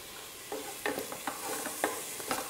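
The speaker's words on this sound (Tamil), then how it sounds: "இதையும் சேர்த்து 1 வதக்கு வதக்கிடுங்க." Onions, ginger garlic paste and curry leaves are stirred in a pan for mutton curry, giving a soft frying hiss broken by scattered scrapes and clicks of the spoon, quiet and close, with no talk.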